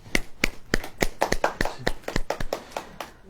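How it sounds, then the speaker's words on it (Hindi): A group claps hands in a steady, brisk rhythm, about a dozen sharp, close claps over a few seconds with no talking. "ताली ऐसे ऐसे"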